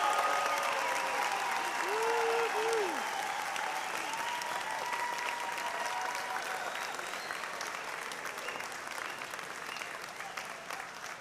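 Graduates at a SUNY Westchester Community College spring commencement receive sustained applause from a large crowd, steady clapping with a few whistles and cheers rising early, then slowly thinning.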